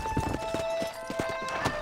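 Rhythmic clip-clop of horse hooves on a hard surface in Red Dead Redemption, steady and close, with a faint tonal hum underneath.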